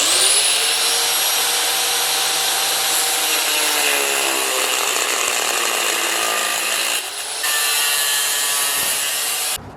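A power tool cuts metal reinforcement pieces with a loud, continuous, high-pitched grinding whine that holds steady and dips briefly near the end, with no talking.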